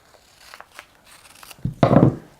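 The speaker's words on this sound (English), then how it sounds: "So for his wrist, I'm going to actually cut it just a little shorter." Scissors snip through rock tape for a wrist taping, a few light clicks followed by a louder crisp cut close up, with no talking.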